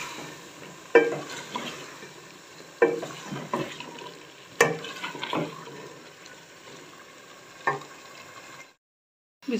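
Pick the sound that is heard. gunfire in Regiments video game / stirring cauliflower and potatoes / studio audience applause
stirring cauliflower and potatoes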